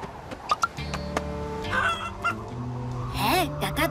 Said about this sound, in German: Gackert uns diese Hecke etwa an?